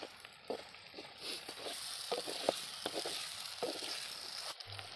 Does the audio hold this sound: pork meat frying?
yes